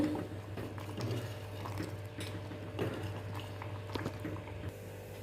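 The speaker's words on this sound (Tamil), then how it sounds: "உருளைக்கிழங்கு அவரைக்காய் போட்டு சாம்பார் வந்து சூப்பராக ரெடி ஆகிட்டுருக்கு" A pot of sambar with potato and broad beans simmers and bubbles steadily over a low, constant hum, with occasional soft clinks and no voices.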